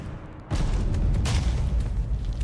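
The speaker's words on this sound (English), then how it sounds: "Explosion." A video game explosion during a no-hit speedrun bursts in suddenly and loudly. It leaves a dense, sustained roaring rumble that fills the rest of the moment.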